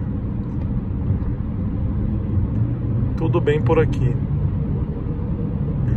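A Jeep Compass 2.0 Flex Longitude 2020 engine-brakes in fourth gear downhill, a steady low rumble running throughout, with a brief spoken phrase over it near the middle.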